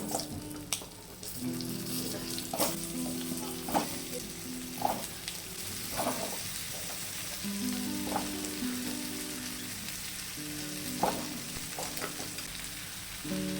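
Cut vegetables go into a pan of prawns that are already fried red, bringing a continuous frying sizzle with scattered clatters and short tonal scrapes of stirring. It stays close and at a moderate level, with no voices.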